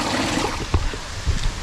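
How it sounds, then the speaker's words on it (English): Spring water flows and trickles steadily in the White Mountains, with a continuous wash of water noise and a couple of soft gurgling splashes close by. "You can see the water flowing in."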